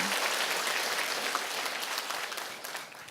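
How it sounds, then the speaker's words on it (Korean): Audience applause at a Korean company event, a dense crowd clapping steadily and loudly throughout, tapering slightly toward the end with no voices over it. "우리 자신들을 위해서 박수 한번 치도록 하겠습니다"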